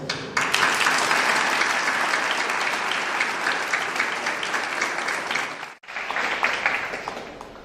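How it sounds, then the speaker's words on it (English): A graduation audience applauds the parents in a full, sustained burst of clapping that carries on for several seconds, breaks off briefly near the end, then resumes. "I would like to take this moment for us to applaud our parents"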